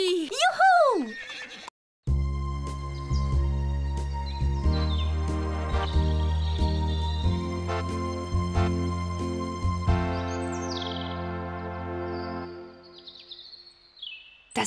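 Horses neigh and whinny while racing in the Bibi und Tina video game, a loud whinny up front followed by galloping hoofbeats and bright game music, with a voice calling out over it.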